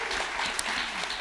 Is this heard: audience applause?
yes